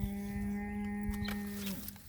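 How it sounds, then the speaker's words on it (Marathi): A calf at a Konkan village rice-harvest ritual lets out a single drawn-out moo, close and clear, which ends with a falling tail. "ते एक वासरू आहे"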